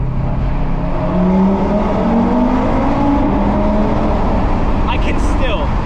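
The deep engine of a tuned Audi RS3 with no exhaust rumbles loudly in a tunnel, echoing, its pitch rising and falling as the car revs and accelerates.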